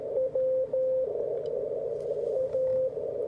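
Unfiltered CW Morse signal on a Yaesu FTdx5000MP Limited radio with the 300 hertz filter engaged: a steady tone keying in dits and dahs over a bed of band noise and crackle, moderately loud with no speech.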